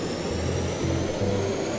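A jet engine spooling up in the Stormworks video game, a steady low roar with rising tonal hum layered over broadband engine noise, loud and continuous throughout.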